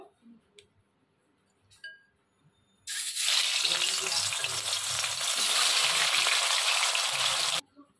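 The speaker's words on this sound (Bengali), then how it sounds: "এই মাছগুলোকে আমি প্লেটে তুলে নিয়ে বাকি মাছগুলো ভেজে নেব।" Snakehead (shol) fish fries in hot oil in a wok, a loud, steady sizzle that starts abruptly and holds for several seconds before cutting off, after a quiet stretch with faint clinks.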